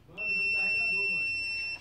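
A digital multimeter's steady, high-pitched continuity beep sounds continuously for most of the clip while testing a microwave door microswitch, with someone talking underneath it.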